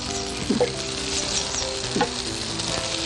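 Peas fry and sizzle in oil while being stirred, a steady close crackle with a few soft scraping knocks of the spoon against the pan.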